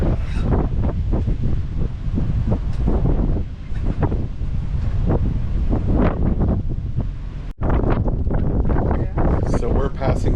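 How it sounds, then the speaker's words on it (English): Strong wind buffets the microphone on a boat cruising the Erie Canal near Schenectady, a loud, steady roar with gusty swells throughout, while people talk beneath it. "The wind is really starting to pick up"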